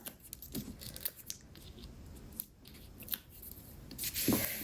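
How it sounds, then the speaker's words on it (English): Scissors trim ribbon at a paper-craft table while a greeting card is assembled, giving several quick, light snips and rustles close by, with no voices. "I might as well trim up my ribbon while I'm here"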